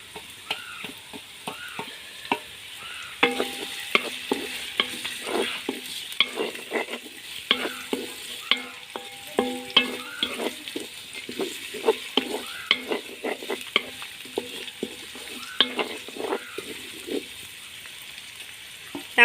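Crushed ginger, garlic and green chilli frying in a pan for upma, a close crackling sizzle with frequent stirring scrapes and clinks of a spoon against the pan, no talking.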